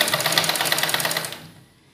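A sewing machine stitches the neck strip of a suit in a fast, even run of needle strokes that slows and stops after about a second and a half.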